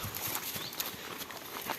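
Hooves of a palomino stallion and a filly clip-clop in soft, uneven beats on farm ground, moderately close, with no voices over them.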